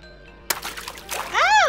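Splashing water effect in the Roblox video game, a short burst of splash followed by a rising sparkly chime-like tone, with a person talking over it.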